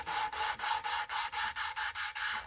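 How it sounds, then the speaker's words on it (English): A new valve on a 2009 Honda Fit engine is lapped in with grinding grit, a rhythmic gritty rubbing that repeats about four times a second, close and even, with no talking. "you're rolling that grit in between there, and it's taking equal amounts out, and it's helping to grind that in"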